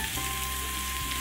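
Chopped onions fry with garlic in a pan, making a short, even, close sizzle with no voices.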